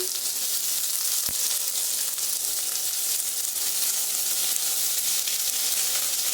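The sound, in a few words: chopped onions frying in hot oil with whole spices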